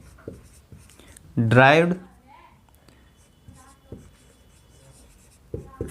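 Chalk or marker writing on a board during a Hindi-language physics lecture on units and measurements: faint, scattered scratching taps under a teacher's speech.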